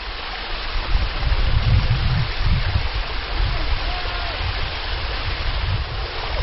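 Water cascades through a rocky fault in a desert canyon, a steady broadband rush of falling water with a low churning rumble, continuous and fairly close throughout.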